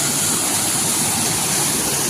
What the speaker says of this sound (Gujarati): એટલે કે આ ધરડાનો ધોધ આપણે હરમડિયા ગામે આવેલ છે.